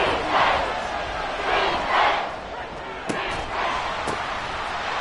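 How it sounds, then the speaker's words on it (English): A football stadium crowd roars continuously through a third-down play, swelling in waves with a few sharp bangs cutting through the steady broadband din. "This crowd doing their best to make a lot of racket."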